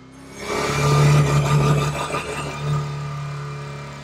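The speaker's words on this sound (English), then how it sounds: "push that good old Type 2 engine to its absolute limit." Volkswagen Type 2 bus engine in The Crew Motorfest racing game, revving hard and holding a steady mid-pitched drone that swells early, then settles into a sustained loud hum.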